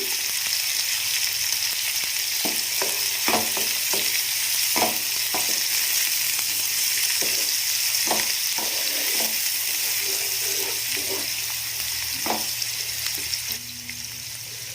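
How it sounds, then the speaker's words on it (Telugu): Chopped onion and green chilies with turmeric fry in a pan, a steady close hiss of sizzling oil throughout with scattered light clicks and scrapes of stirring. "కట్ చేసుకున్న ఆనియన్ అలానే పచ్చిమిర్చి ఆనియన్ తొందరగా ఫ్రై అవ్వడం కోసం కొంచెం"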